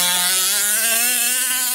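The motor of a Losi Monster XL RC truck lets out a loud, close, high-pitched electric whine that holds steady and climbs slightly in pitch over a short burst.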